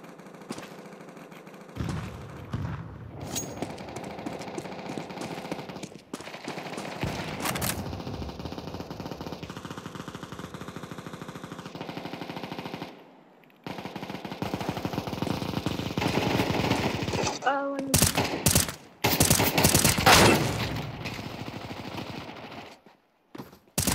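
AK rifle fire in CS2: rapid bursts of automatic shots, close and loud, interrupted by pauses and mixed with other game sounds, with a final heavy flurry near the end.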